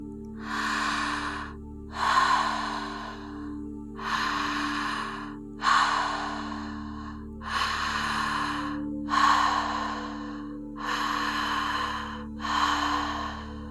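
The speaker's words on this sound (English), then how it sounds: "fully inhaling in through an open mouth and exhaling softly" Steady, connected breathing through an open mouth, with eight airy inhale-exhale cycles flowing without pause, close and soft over a low hum.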